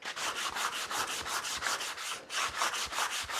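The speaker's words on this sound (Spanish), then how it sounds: "Pasa lija por las esquinas, que no corta mucho la madera" Sandpaper is rubbed by hand along the corners of a wooden part for a 1950s-style wooden go-kart, in quick rhythmic strokes close by, with a brief pause midway and no speech.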